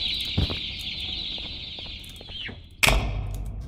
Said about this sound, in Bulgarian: Това май синото трябва да е петела, а това другото да са кокошки.